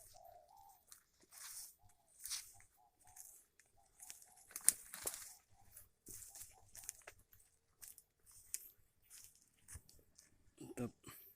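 A spotted dove calls briefly from pine trees in a garden, a short low coo near the start, followed by scattered rustling and crackling nearby.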